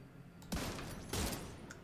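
Automated turret in The Division 2 firing two short bursts of gunfire, fairly loud, with a brief lull between them and faint background game noise.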